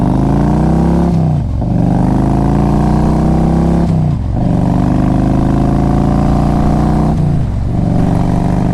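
A loud 2000 Harley-Davidson Road King Classic motorcycle engine idles and revs steadily, its deep rumble rising and dipping in pitch three times across the clip.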